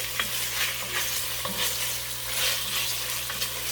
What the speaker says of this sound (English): down here in this pot, we have our bacon cooking off